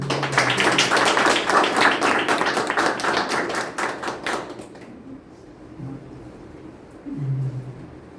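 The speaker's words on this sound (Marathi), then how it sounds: "आणि प्लीज जर का आवडलं असेल तर भरभरून टाळ्या म्हणतो." An audience at a Java batch certification and project presentation claps together for about four seconds, then the clapping fades to a quiet room with a few faint low sounds.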